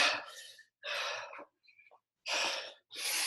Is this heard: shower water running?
no